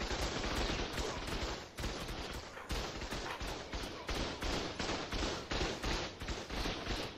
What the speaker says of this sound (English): I'm being shot by something.